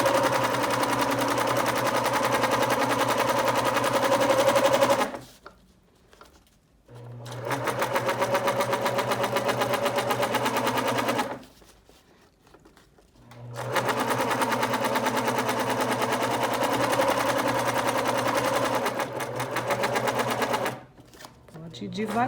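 A sewing machine stitching automotive thermal blackout fabric for a motorhome runs in three long, steady bursts with short pauses between them. The machine is loud and close, and there is no talk over it.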